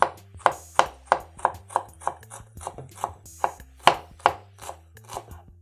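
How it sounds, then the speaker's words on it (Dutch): Knife slicing peeled shallots thinly on a cutting board, a quick even run of about fifteen crisp taps close by, with no talk. "De schalotten. Eerst de pellen, daarna in dunne plakjes snijden."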